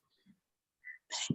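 A single short sneeze at the end of a quiet moment, preceded by faint breaths or soft vocal sounds.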